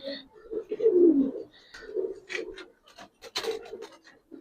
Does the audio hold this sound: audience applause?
no